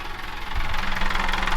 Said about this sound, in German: Wenn wir einkuppeln, dann gibt es einen harten Schlag im Motor und er fängt an zu hoppeln.